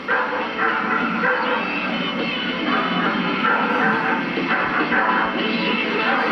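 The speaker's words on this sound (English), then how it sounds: "And the dogs are barking, as you can hear." Several dogs bark and yip in a busy, noisy outdoor scene, the barking blending into a constant wash of background sound.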